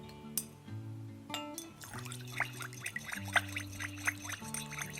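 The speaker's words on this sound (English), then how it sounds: "stir in the essential oils and pour it into our candle holder" Liquid soy wax with stirred-in essential oils pours in a thin stream into a candle holder, with a few soft clinks against the holder, while gentle music plays in the background.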